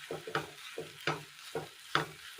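Kashmiri chili powder being stirred into vegetable masala noodles, a steady series of soft scraping stirs with a faint sizzle, about five strokes at an even pace, close and quiet.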